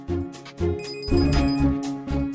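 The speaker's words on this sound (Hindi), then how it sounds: "वो सरिता का फोन है।" A telephone rings indoors in a household scene, several repeated electronic ring bursts with short gaps, fairly close and clear, with no talking over it.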